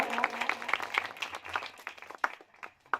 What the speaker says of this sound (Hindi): जोरदार ताली एक बार पीछे तक हो जाए भाइयों।